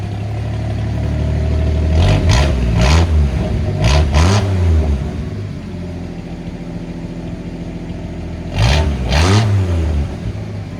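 A 1952 International L-100 with a 220 inline six and glass pack exhaust revs in three bursts, at about two, four and nine seconds. Each burst rises to a throaty, resonant roar, then drops back to a steady, rumbling idle, close and loud throughout.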